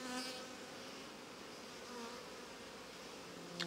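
Honeybees buzz steadily on a hive frame, a close, continuous dense hum of many insects with no talking.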